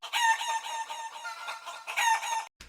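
Hens clucking and cackling with a rooster crowing over them, a dense, loud barnyard chorus that runs for about two and a half seconds and then cuts off abruptly.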